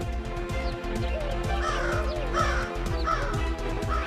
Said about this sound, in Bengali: না, কাক মোবাইল ফোন নিয়ে পালাচ্ছে রে।